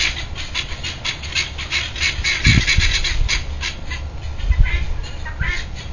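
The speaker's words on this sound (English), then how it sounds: "The guineas are having their say here." Guinea fowl call outdoors in a repeated, rhythmic chatter of harsh squawks, moderately close and fairly loud, with a few low thumps in the background.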